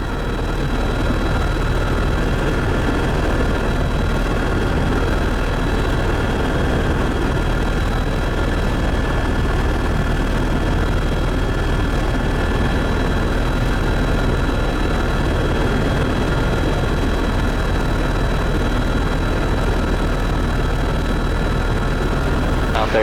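Steady, loud rotor and engine roar from a tour helicopter cruising over the Grand Canyon and Marble Canyon, filling the cabin as a continuous unbroken drone with no pauses for the full stretch.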